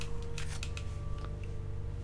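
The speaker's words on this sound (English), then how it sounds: "Typewriter." Typewriter keys clatter in a handful of quick, crisp strikes over a steady low hum and calm background music in the video game Resident Evil 4, with no talking.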